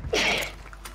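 A single quick, close sneeze bursts out sharply over a low background hum during a Warzone video game session.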